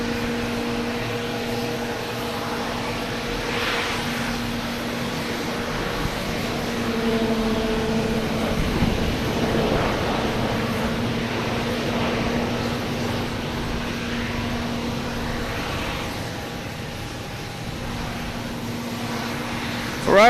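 A Delta Embraer E175 airliner departing Boston Logan produces a sustained engine drone with steady tonal hums, swelling gradually in the middle and easing off again, heard from outside with no voices.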